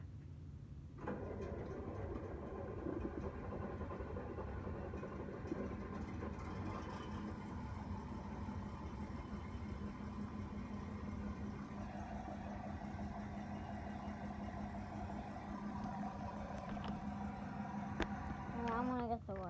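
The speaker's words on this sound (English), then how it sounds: "Oh, you got your tractor running, don't you?" A cold-started John Deere tractor, likely a 4040 or 5115M, idles with a steady low diesel rumble that runs close and continuous throughout, with no break in the engine note.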